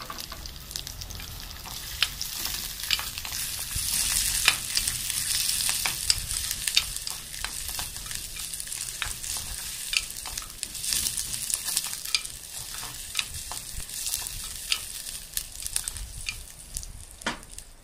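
Curry leaves, long-cut garlic and chopped red onion tempering in hot oil, a dense, steady close sizzle with frequent crackling pops and occasional stirring scrapes, loud and continuous without talk.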